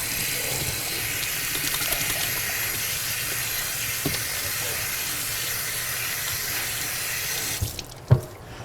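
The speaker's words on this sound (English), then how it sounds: "The next thing I'm going to do is wash my hands." Steady running tap water at a kitchen sink as hands are washed with soap, a continuous close hiss lasting several seconds, ending with the flow cut off and a couple of small knocks.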